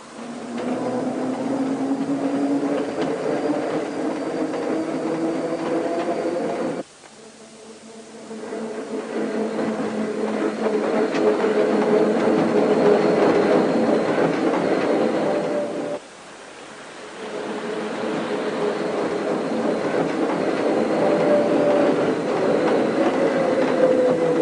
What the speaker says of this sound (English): 88 arrives and departs from Place de la Victoire to start the long haul up to Stombert.